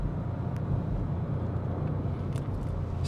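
A 2026 Audi SQ7's engine hums in second gear during a test drive, a steady low cabin drone with road noise, moderately loud and continuous without talk.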